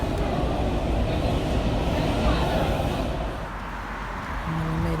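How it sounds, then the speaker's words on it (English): A Washington D.C. subway train rumbles steadily at close range, with a dense low roar that dips briefly before a faint tonal whine appears; a voice can be heard faintly under the noise. "Then we took the subway."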